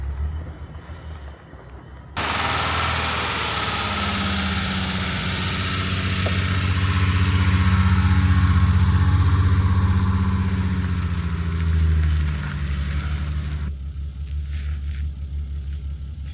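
A BMW E30 engine cranks and catches, then idles loudly up close with a steady low rumble for about eleven seconds before cutting off abruptly, leaving quieter background noise.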